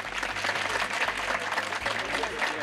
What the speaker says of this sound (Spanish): les pido un aplauso para el señor del registro civil